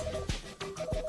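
Telephone keypad tones on a small office phone system, three short separate beeps in quick succession with a quiet hum behind them, no talking.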